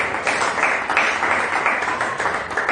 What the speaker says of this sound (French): Donnons une forte acclamation à notre Dieu